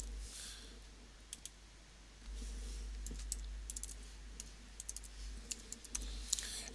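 Soft, scattered key presses on a Mac keyboard while a username and password are entered, faint and intermittent over a steady low hum, with a few quicker taps toward the end.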